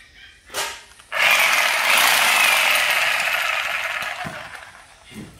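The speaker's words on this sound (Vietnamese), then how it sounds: "Rồi con này là con cưa kiếm." Hitachi reciprocating saw (sabre saw) running in a power-tool shop: a loud, harsh, rapid mechanical buzz starts abruptly after a brief knock, holds steady for about three seconds, then fades out, with faint clicks around it.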